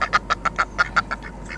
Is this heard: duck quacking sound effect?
yes